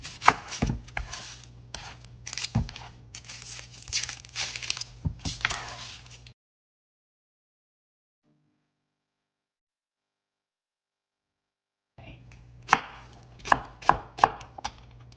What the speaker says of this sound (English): Now, we're going to chop our onion.